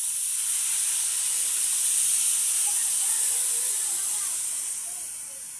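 Water poured into a hot pan gives a loud, steady steaming hiss that fades slightly toward the end.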